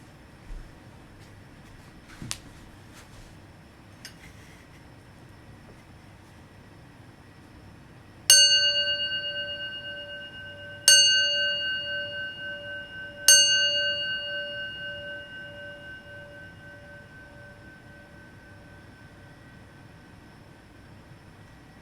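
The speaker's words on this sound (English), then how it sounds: "I'm actually going to close with the sound of the bell." A small meditation bell closes a gentle yoga practice, struck three times a few seconds apart; each bright ring swells and slowly fades over a quiet room hiss, with faint taps before it and no talking.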